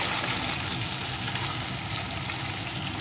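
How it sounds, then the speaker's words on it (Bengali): Taro (gathi kochu) with salt frying in hot oil in a pan, a dense, even sizzle that hisses steadily and loudly throughout, no voices. "এখন কচুটা একটু ভেজে নেব"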